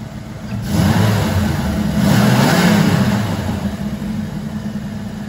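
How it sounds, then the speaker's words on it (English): A 1993 Ford Mustang Cobra with about 9,000 miles revs up twice from idle, each blip rising over the low engine rumble and easing back down, close and loud, with no talk. "Give it a couple revs."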